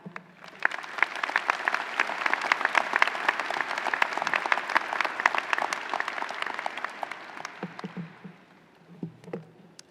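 Sustained audience applause welcoming commencement speaker Pete Geren at a 2024 COLA commencement ceremony, a steady dense clapping that swells and then tapers off, with a few faint voices as it fades.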